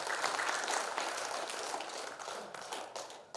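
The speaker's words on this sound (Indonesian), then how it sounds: "Tepuk tangan boleh buat kita semua." A seated audience at an Indonesian hajj guidance certification event claps together, a quiet, even patter of many hands sustained for a few seconds and fading at the end.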